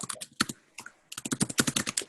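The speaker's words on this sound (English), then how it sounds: "I can hear quite a lot of typing." Computer keyboard typing during an online meeting, bursts of rapid clicky keystrokes with short pauses between runs, close to the microphone and heard alone without talk.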